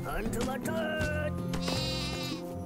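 Game sheep from Craft the World giving a run of loud, wavering bleats one after another, close up and continuous with no pause between calls.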